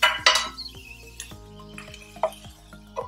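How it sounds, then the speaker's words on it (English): Clatter of a metal lid set onto a cooking pot of spiny gourd on a gas stove over low flame, a few sharp clinks and knocks up close with faint ringing between them. "cover the lid"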